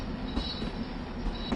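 Train rolling on rails in a PS4 train video game, a steady loud rumble with faint wheel squeal and periodic clicks from the track, no voices.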